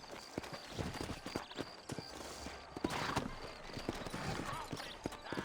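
Horse hooves clip-clop in the Western video game Red Dead Redemption, a steady irregular run of sharp hoof strikes heard near, with game ambience and some talk underneath.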